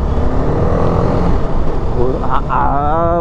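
Steady road traffic rumble with passing vehicles and engine noise, continuous and fairly loud throughout, with a voice speaking over it.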